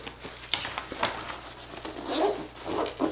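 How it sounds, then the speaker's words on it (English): The main-compartment zipper of an Ogio Ascent backpack is pulled in a few quick, scratchy runs, close and fairly quiet, with soft handling noise between strokes. "for the main compartment, the zipper is significantly beefier"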